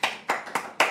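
Sparse, thin applause from a small audience: four separate, distinct claps spaced roughly a quarter second apart, close and fairly soft.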